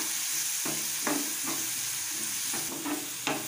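Onions and capsicum curry ingredients frying in a pan, a continuous sizzle with scraping and stirring strokes of a spatula at irregular intervals, close and clear with no talk.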